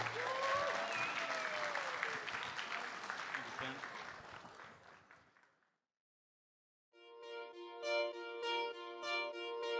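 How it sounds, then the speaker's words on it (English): Guests at a walima wedding reception clap for the newlyweds, a lively round of applause that gradually fades out. A short silence follows, then a song with tonal music begins. "Can we get a round of applause for them?"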